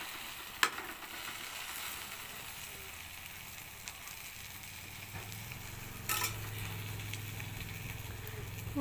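A beaten egg omelette fries steadily in a pan, a continuous close sizzle with a couple of sharp clicks of a utensil against the pan.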